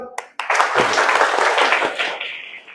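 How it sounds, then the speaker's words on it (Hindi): An audience at a school marathon event in Bhaiswar breaks into applause after a couple of sharp single claps, building into a full, steady crowd clapping that holds for over two seconds before thinning slightly. "उनके लिए एक बार ताली।"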